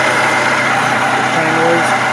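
A Toyota Highlander engine idles with a worn water pump, giving a steady, loud whirring drone with a faint rotating whine running through it, close and continuous.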